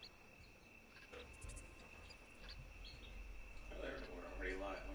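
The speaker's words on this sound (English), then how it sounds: "Oh yeah, how do I sound with the birds?" Crickets and other insects chirp in a dense, steady chorus with scattered bird calls over a soft, faint background of outdoor game ambience in Red Dead Redemption 2.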